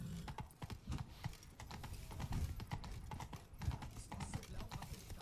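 Horse hooves clip-clop steadily along a main road while riding in Witcher 3: Blood and Wine, the rhythmic thuds continuous and fairly close, with faint game ambience beneath.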